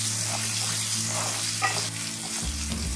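Onions and two small green chilies fry over a medium flame, a steady close sizzle with a few stirring scrapes and a thicker bubbling turn near the end.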